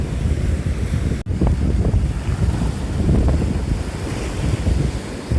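Surf washing on a Konkan beach under strong wind buffeting the microphone, a constant low rumble with no voices.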